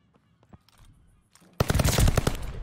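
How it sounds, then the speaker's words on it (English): Carbine gunfire in Call of Duty Vanguard: faint clicks and movement sounds give way to a loud, rapid burst of automatic shots, each crack sharp and close, repeating quickly in the last second. "look at that fast scoop of carbine shot"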